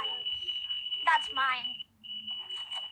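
Someone's alarm goes off during an online game, a steady high electronic tone that runs almost unbroken while people talk over it.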